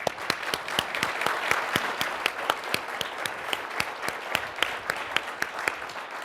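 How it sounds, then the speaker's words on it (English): Audience applause for guest astronauts at the National Press Club, steady and fairly close, with distinct individual claps ringing over a continuous wash of clapping. "How about a round of applause for our guests?"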